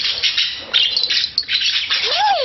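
Several small birds chirp and tweet close by in a busy, continuous flurry, with one rising-falling whistle-like call at the end.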